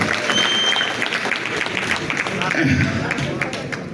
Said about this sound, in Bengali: সকলের জন্য একটা করতালি, জোরে একটা করতালি